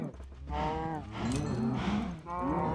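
Cattle in the Minecraft video game moo repeatedly in a dense herd, several overlapping low, drawn-out calls following one another closely at steady loudness with no talk.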